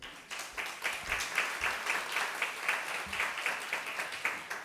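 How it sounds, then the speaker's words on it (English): An audience at an agricultural evaluation conference session claps for its presenters, a steady, rhythmic applause of many hands with evenly pulsing swells, moderately distant and continuing unbroken for several seconds. "Can we give a round of applause to our presenters?"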